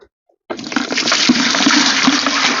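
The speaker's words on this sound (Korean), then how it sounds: "물을 부으면서 이렇게 저어주면 잘 녹습니다" Water rushes in after a half-second of silence and keeps pouring steadily into a container of powder being mixed into a spray for apricot trees, a loud, close, continuous splash with faint churning underneath.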